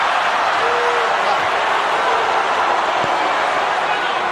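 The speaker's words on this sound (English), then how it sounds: "Crowd boos anything that Rios does. And cheers everything that Manny does." A boxing arena crowd at the Pacquiao versus Rios fight roars in a dense, continuous wash of cheers and jeers, loud and steady throughout.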